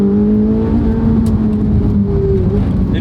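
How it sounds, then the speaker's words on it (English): A naturally aspirated V8 engine of a Ferrari 458 Italia drones and revs steadily nearby, a loud continuous mechanical hum without pauses. "You can just listen to the engine."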